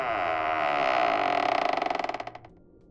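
Creaking door slowly swinging open as a storybook sound effect, a long drawn-out wooden groan that rises and then breaks into a fast rattling series of creaks before fading, loud and close with no talking.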